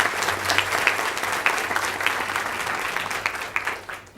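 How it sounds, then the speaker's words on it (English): A round of applause at a school board of trustees meeting, a moderate crowd clapping steadily with individual claps standing out, tapering off toward the end after about four seconds. "So they get a round of applause just for that."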